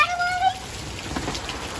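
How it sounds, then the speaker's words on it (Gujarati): Heavy rain pours down in a steady, dense hiss that runs through the whole moment, with a brief high-pitched squeal near the start. "કેટલો મસ્ત પડે છે વરસાદ"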